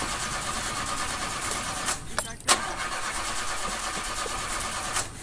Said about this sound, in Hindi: यार गाड़ी स्टार्ट नहीं हो रही, क्या करे?